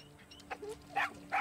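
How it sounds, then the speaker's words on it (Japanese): A dog barks in Far Cry 6: a few short, separate yaps, near and moderately loud over a quiet game backdrop with a steady hum, no talk. "ワンワンワン、いただきます。"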